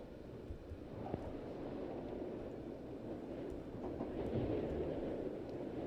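Steady, low train rumble from inside a rail car in the game Conarium, a quiet continuous drone with faint rattles and no talking.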